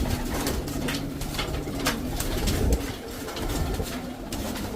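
Domestic pigeons cooing close by, repeated soft throaty coos over a continuous flutter of bird sounds, with no talking.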